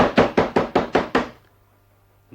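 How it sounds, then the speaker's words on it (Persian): Six hard, evenly spaced knocks on a closed door sound close and loud in a quick rhythm, then stop, leaving a quiet room. "دری بسته آنها را سخت تق تق کرد"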